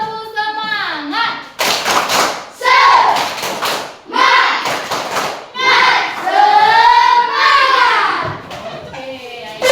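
A classroom joins in a rhythmic spirit clap, sharp bursts of group clapping in short patterns mixed with children chanting and a teacher's voice leading.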